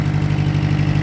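A machine's motor, just started with a key, runs at a steady idle, a loud close low rumble with an even rapid pulse and no talk over it.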